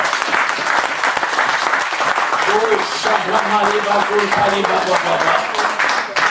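A church congregation cheering and applauding the Lord: loud, dense clapping throughout, with shouts and voices in the crowd and a sustained sung or called tone partway through.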